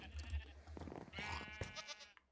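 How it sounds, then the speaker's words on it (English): A screaming goat in Minecraft lets out a quiet, strained bleat, a couple of wavering cries in quick succession over about two seconds. "We have a screaming goat."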